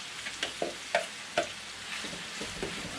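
Potatoes tumble into a hot pan of browned beef tongue, giving a steady sizzle broken by a few sharp scraping and stirring clatters near the start.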